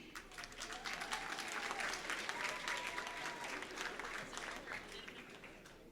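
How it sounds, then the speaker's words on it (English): Sustained applause from an awards ceremony crowd for school teachers of the year, steady clapping throughout with a few voices calling out faintly underneath. "how about a nice round of applause for our high school Teachers of the Year for 2022"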